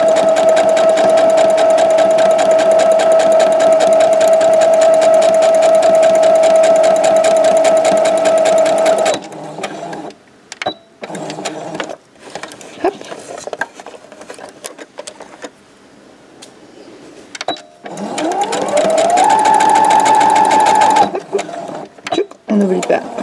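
A sewing machine stitches all four sides of fabric pieces for a chequebook holder, running in a loud, fast steady whir, then pausing amid clicks and handling noises before starting up again.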